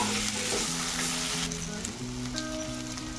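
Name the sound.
raw banana pieces frying and being mixed in a pan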